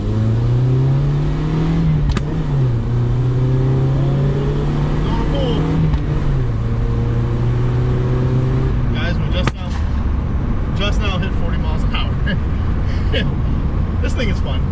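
A 1986 Plymouth Voyager minivan's 2.2-liter engine strains under full throttle on a dyno, its steady low drone rising in pitch through gear shifts, then a sharp pop and rougher running, with people talking over it.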